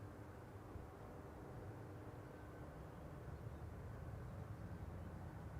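An Embraer 190 airliner, nine years old and arriving from Berlin, lands at Amsterdam Schiphol on runway 18R, giving a steady, distant low roar of jet engines that holds level throughout.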